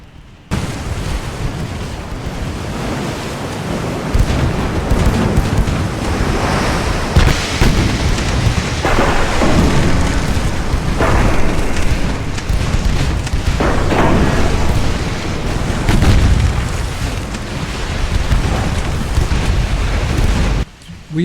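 Naval battle line guns fire in Ultimate Admiral Dreadnoughts during a 1920 USA campaign engagement, heavy booms rolling into one another as a loud, continuous roar of cannon fire and blasts.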